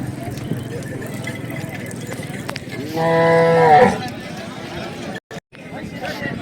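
A single loud, drawn-out bellow from a bull rises over murmuring voices and outdoor cattle market noise, lasting about a second before fading.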